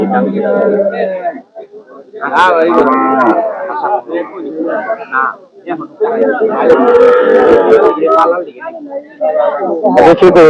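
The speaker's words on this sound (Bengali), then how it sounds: "এটা হচ্ছে সাইবাল জাতের গরু এটা কিন্তু ছয় মাসের বাচ্চা" A Sahiwal breed cow, six months old, moos at a busy cattle market in Bangladesh, the calls rising above steady crowd chatter and people talking close by.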